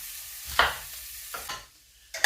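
Onion and green pepper cooking in a pan, heard as a few distinct scraping stir strokes over a quiet background with little steady sizzle.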